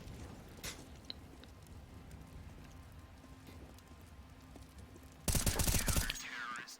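Rifle gunfire in a Counter-Strike match between Endpoint and Wisla Krakow, a rapid loud burst near the end that cuts through a steady hiss of background ambience.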